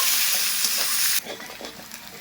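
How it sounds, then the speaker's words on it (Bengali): Chopped onions frying in a pan, a loud steady sizzle that drops suddenly halfway through, as if stirred or the heat eased, then continues softer. "পেঁয়াজটা হালকা করে কিন্তু ভেজে নেব"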